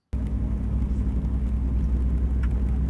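A Lamborghini Huracan runs on the wet M1 Concourse racetrack in Michigan, its engine a steady, loud low rumble that begins abruptly and holds without a break.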